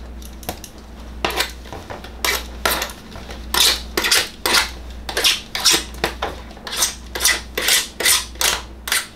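A knife scrapes a Rinnai Ubbink concentric vent pipe in a quick run of sharp, rasping strokes that grow louder and more rhythmic, heard alone and close up.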